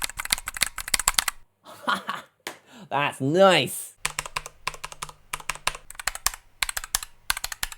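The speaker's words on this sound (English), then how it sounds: "they're not just normal keyboard switches, they're low-profile keyboard switches" Rapid clicky presses of low-profile keyboard switches in an arcade controller rattle in quick bursts, light and crisp up close, with a voice briefly speaking in the middle.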